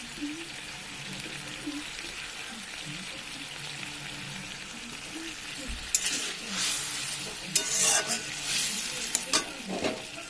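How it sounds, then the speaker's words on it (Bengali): Spice masala sizzles steadily in a pan for a cooked meat dish, then water and tomato go in with a louder burst of hissing and splashing, followed by stirring and scraping, heard close up. "এই মশলার মধ্যে দিয়ে দিচ্ছি সামান্য পরিমাণ জল। দিয়ে দিচ্ছি টমেটো।"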